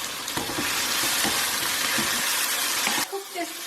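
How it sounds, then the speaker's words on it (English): Tomatoes with chili powder and a pinch of salt fry alongside onions in a Dhaba-style chicken bhuna masala, giving a loud, steady sizzle with stirring scrapes that stops abruptly near the end. "Time for our tomatoes to go in. Along with our tomatoes, we put our chili powder and just a pinch of salt"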